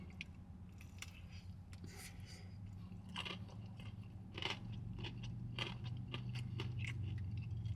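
Crunching bites of KFC Habanero Hot & Crispy fried chicken, a series of crisp, close chewing crunches repeating irregularly over a low steady background hum.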